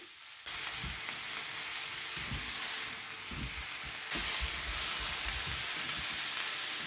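Chicken masala fries in a pan with a soft, continuous hiss and crackle that grows a little louder partway through and stays even to the end.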